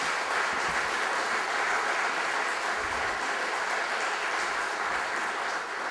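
A theatre audience at a Pontic Greek New Year concert applauds, a dense, continuous sheet of clapping from many hands that stays fairly even in volume from start to finish.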